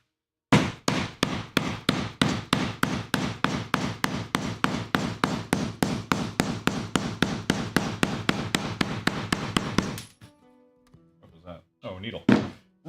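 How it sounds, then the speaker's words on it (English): Hammer blows on armor ring out in a steady run of about thirty sharp, loud, evenly spaced strikes, close by, then stop, followed by a few faint clicks and brief shuffling. "What if I hammer this?"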